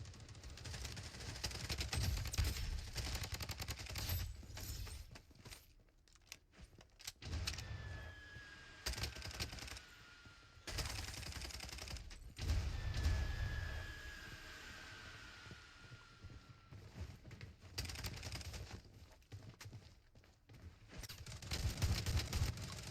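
Gunfire in the video game Blood Strike: bursts of rapid automatic shots come in clusters separated by quieter gaps, with engine-like rumble and occasional whistling tones between.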